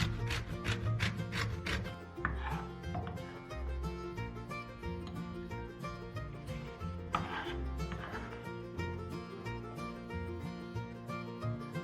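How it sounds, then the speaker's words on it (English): A knife cuts through a citrus macroptera (jara tenga) fruit on a board, with a run of quick close chopping taps early on and a few more knocks later, under steady background music. "Now cut the fruit into half."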